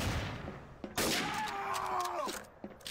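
Gunfire in Garry's Mod Trouble in Terrorist Town: a sharp burst of shots cracks out about a second in, followed by a short falling electronic tone and a few fainter thumps, fairly quiet overall.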